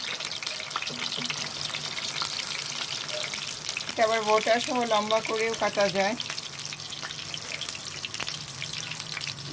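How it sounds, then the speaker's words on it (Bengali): Eggplant pieces sizzle steadily in hot oil as they fry, a continuous crackle that runs throughout, with a person talking over it for a couple of seconds midway. "সবগুলো বেগুন আমরা এক এক তেলের মধ্যে ছেড়ে দিচ্ছি"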